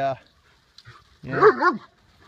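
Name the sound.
dog barking, older dog with puppy Aspen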